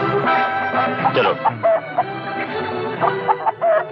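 A rooster clucking and crowing in short repeated calls over a few seconds, fairly close and loud, with some background bustle.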